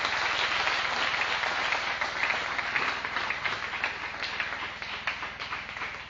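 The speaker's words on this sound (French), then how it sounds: "Acclamons très très fort pour le Seigneur" A church congregation claps and cheers loudly for the Lord, steady dense applause with voices mixed in, holding at an even level throughout.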